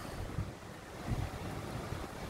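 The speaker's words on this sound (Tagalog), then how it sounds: "Yan ang lakas pa rin ng hangin." A steady, moderate rush of strong typhoon wind, with a few low gusts thumping the microphone and no talking.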